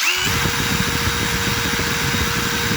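A three-year-old, hard-worked Dewalt DCF887 impact driver spins up and runs continuously with a steady high motor whine and rattling hammering, close and loud, with no talking.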